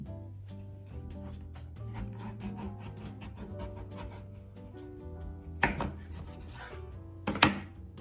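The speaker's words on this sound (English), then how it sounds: "Then you're gonna slice it in half." A kitchen knife cuts through an acorn squash, repeated short scraping and crunching strokes leading to two louder thunks as the blade pushes through the tough skin and the halves separate, close and without talk.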